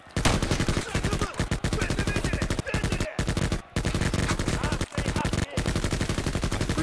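Dense automatic gunfire in the shooter game Escape from Tarkov Arena, rapid sustained bursts broken by brief gaps, loud and close, filling the whole stretch without speech.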